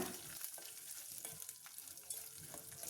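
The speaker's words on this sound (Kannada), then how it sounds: "ಸ್ವಲ್ಪ ಫ್ರೈ ಮಾಡ್ಕೊಳ್ಳೋಣ" Curry leaves and dried red chillies fry in a pan as a tempering for Karnataka-style puliyogare, a faint, steady sizzle broken by soft stirring scrapes.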